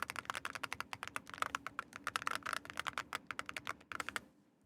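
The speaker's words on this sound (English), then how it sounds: "I can get you a keyboard that sounds like this." A custom mechanical computer keyboard being typed on, a close, crisp run of rapid clacky keystrokes in uneven bursts that stops near the end, with no talking.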